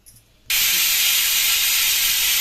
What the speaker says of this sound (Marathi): आपल्या कुकरला तीन शिट्ट्या झाल्यात